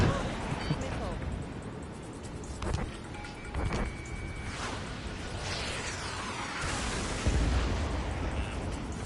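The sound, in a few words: missile explosions in Ace Combat 7 video game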